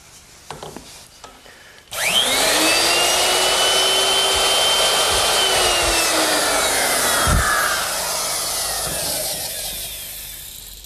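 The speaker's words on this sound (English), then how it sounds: "Now the router is set up with a half-inch straight cutting bit," Router fitted with a half-inch straight bit cutting into wood, starting abruptly after a quiet moment and then a loud continuous high whine that slowly drops in pitch and fades near the end; no speech.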